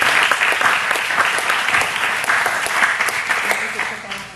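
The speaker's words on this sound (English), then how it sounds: "let's give her a round of applause" Applause from an audience at a Common Core information meeting fills the room, loud, dense and continuous, before tapering slightly at the end.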